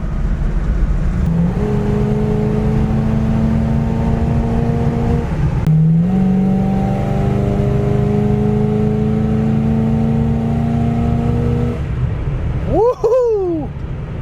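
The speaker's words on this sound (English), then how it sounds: "Now the thing stays cool, rides down the road super smooth." An Oldsmobile 98 four-door hardtop, a formerly seized classic, cruises down the road with a steady, close engine hum rising and falling through gear changes, with talk inside the car.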